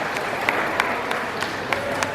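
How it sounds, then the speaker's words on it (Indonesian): An Indonesian audience applauds for President Joko Widodo, loud, steady crowd clapping with a few sharper individual claps standing out at regular moments. "Tepuk tangan untuk Presiden kita Joko Widodo."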